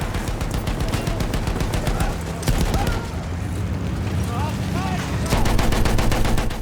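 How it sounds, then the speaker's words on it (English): Tank gunfire in the Battlefield 1 video game, a steady stream of rapid machine-gun bursts and booms throughout with loud battle noise layered over it. "And gunning down these guys."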